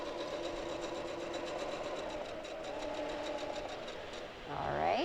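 A domestic sewing machine stitches quilting feathers with a steady, rapid needle clatter at moderate loudness, running continuously before a brief rising whir near the end.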